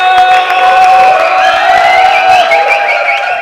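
A slam poetry crowd at a European championship event imitates a Budapest train whistle, many voices whistling and whooping together in a loud, sustained, wavering chorus indoors, close and dense throughout.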